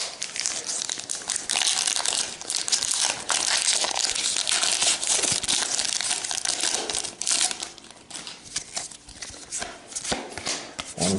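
Pokemon Lost Thunder booster packs being torn open and handled, foil wrappers crinkling and crumpling loudly and continuously close to the microphone, with shuffling of cards and no talking.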